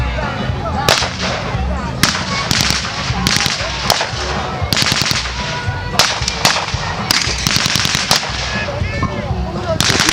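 Gunfire in a WWII reenactment firefight cracks out as sharp, loud single shots at irregular intervals, some close and some farther off, over constant background noise.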